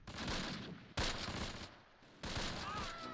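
Rifle and small-arms fire in the Close Combat Panthers in the Fog wargame, faint bursts of crackling gunfire in three bouts with brief gaps between them.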